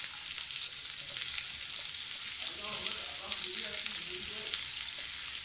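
Finely sliced onions frying in about two tablespoons of hot oil in a pan, a steady dense sizzle with faint stirring scrapes partway through, no voices.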